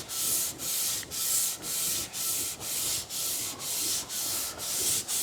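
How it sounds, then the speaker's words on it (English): The sole of a Starrett 199 Master Precision Level is lapped flat on sandpaper, giving steady back-and-forth rasping strokes, about ten in a regular rhythm, close and clear with no voices. "we're going to lap that bottom a little bit. You can see the material coming off on the sandpaper."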